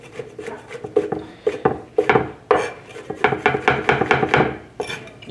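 A knife chops dried shiitake mushrooms on a wooden board for a healthy congee, giving a quick irregular series of crisp close knocks and scraping taps, some in fast runs, with no talking.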